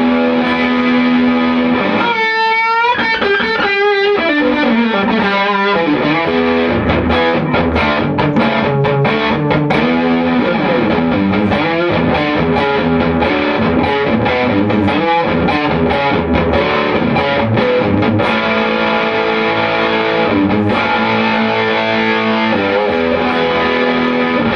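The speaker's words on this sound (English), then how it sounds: "push the gain all the way up, and you get some particularly juicy tones" Suhr S4 Strat-style electric guitar played through an Egnater Tweaker amp with the gain fully up, heavily distorted chords and riffs ringing out loud and saturated, sustained notes alternating with fast picked runs, no talking.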